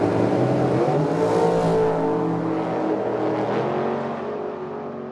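A blue roadster drag car and its rival launch off the line, engines screaming loud and close with a rising roar that slowly fades as they pull away.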